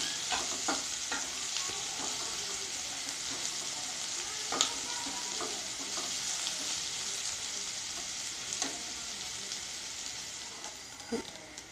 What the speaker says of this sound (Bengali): পেঁয়াজটাকে আমি হালকা করে ভাজবো।